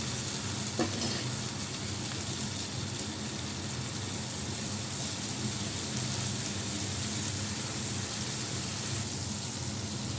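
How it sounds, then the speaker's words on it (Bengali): Ground mustard, chili powder and turmeric powder fry in hot oil with onions and eggplant, a steady, close crackling sizzle at even loudness with one brief sharper pop near the start. "সর্ষেটা গুঁড়ো, একটু লঙ্কার গুঁড়ো, হলুদ গুঁড়ো, এটা একটু তেলের মধ্যে ভেজে নেব"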